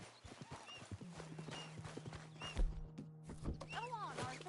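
Horse hooves clip-clop on the ground in a Western video game, irregular steps near and clear, with a horse whinnying briefly and someone talking over the sounds.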